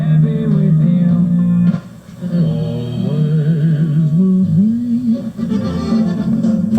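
The factory AM/FM radio in a 1968-70 AMC Javelin AMX plays music at high volume, with a steady, full sound through the car's speaker and a brief dip partway through.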